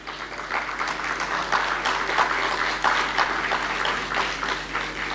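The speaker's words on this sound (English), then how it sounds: "let's have a big round of applause for the artists" Audience applause for Indian classical artists at a live music and dance festival, a steady dense patter of many hands clapping throughout, moderately loud and continuous without speech.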